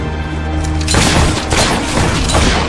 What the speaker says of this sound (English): We need to take care of that mortar.